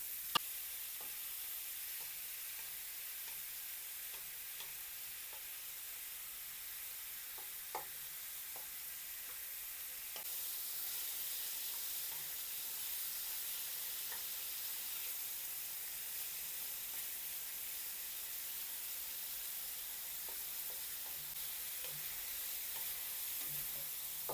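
Pork pieces sizzle steadily in a hot pan as they fry toward brown, a continuous close hiss with light crackles and pops, no voices over it.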